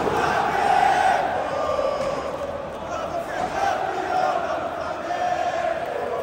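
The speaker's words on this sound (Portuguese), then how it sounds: "Torcida do Flamengo agora cantando muito alto." Flamengo supporters at the Maracanã stadium sing loudly in a dense, continuous crowd roar that swells and dips, with no single voice standing out.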